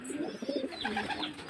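A Madrasi pigeon coos in low, soft repeated phrases close by, with faint higher chirps in the background and no talking.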